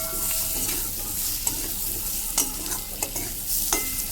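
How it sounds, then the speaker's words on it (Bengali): Spices fry in oil for a tangra fish curry, making a close, steady sizzle broken by sharp spoon scrapes and taps against the pan. "দেখো বন্ধুরা আমার মশলাগুলো ভাজা ভাজা হয়ে গেছে"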